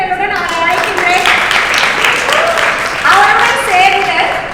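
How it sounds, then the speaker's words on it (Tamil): Applause from an audience welcoming a speaker onto the stage, a steady wash of clapping throughout with voices talking over it. "அவர் ஒரு பெரிய கைத்தட்டலுடன் அவரை அழைக்கின்றேன்"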